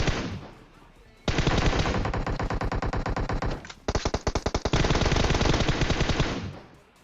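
Loud automatic gunfire in PUBG rattles in a long sustained burst, breaks into a string of separate sharp shots, then rolls into another continuous burst before fading.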